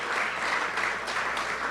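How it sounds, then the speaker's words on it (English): Audience applause fills an award ceremony hall for a schools cricket league prize giving, a steady dense wash of clapping held at even loudness throughout, with faint talk beneath. "please give yourself a lusty round of applause"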